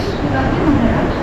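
A train rumbles loudly and close as it pulls into a station during crowded holiday travel to the Konkan in Maharashtra, with voices mixed into the steady roar.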